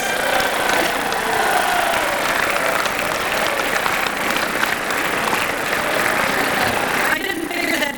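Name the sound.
applause at a dinner speech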